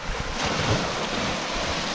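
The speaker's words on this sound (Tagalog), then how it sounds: "Lumakas yung hangin." Strong wind roars and buffets the microphone over constant rushing sea noise during rain at sea, a dense, unbroken wash with no voices.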